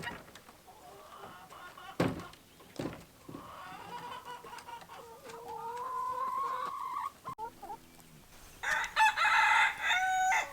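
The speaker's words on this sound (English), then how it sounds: "the roosters are crowing. They're very loud, our little silky roosters." Small Silkie roosters crow several times nearby on a farm, with loud drawn-out calls and some clucking between crows, set against quiet morning surroundings.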